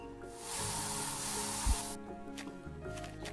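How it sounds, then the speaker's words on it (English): Spray tool in the survival game I Am Future, a faint steady hiss of spraying for about a second and a half before cutting off, over a quiet game music backdrop. "I'm almost out of spray."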